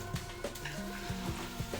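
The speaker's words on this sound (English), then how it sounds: "Sizzling sound." Food sizzles steadily in a hot pan, a close, crackling hiss with a few clinks and stirring sounds over it.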